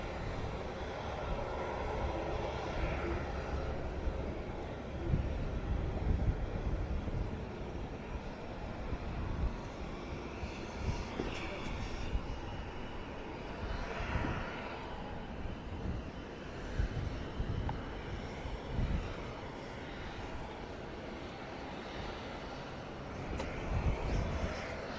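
A T6 propeller aircraft, an ex-Italian Air Force type, arrives at an air show in gusty wind, its engine droning at a distance with a fluctuating hum and wind buffeting.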